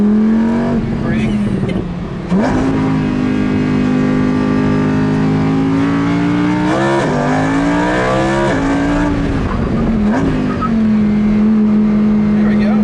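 A Lamborghini Huracán LP610 accelerating hard around Lime Rock Park race track, its engine note climbing and dropping through gear changes and lifts, loud and close from inside the car, with people talking over it.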